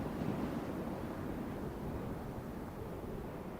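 Cold wind blowing across open Arctic tundra, a steady broadband roar with microphone buffeting, continuous and fairly close throughout.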